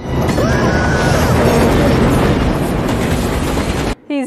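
In a movie scene, a train roars past very loud and close in a dense, continuous rush of clattering wheel noise, then cuts off abruptly near the end with a brief burst after a short gap.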